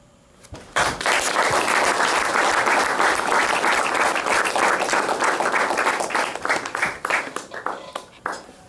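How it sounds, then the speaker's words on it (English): After a poetry reading, an audience breaks into sudden, loud clapping that holds steady for several seconds and then thins into scattered claps, close and without speech. "I can hear that radical clapping"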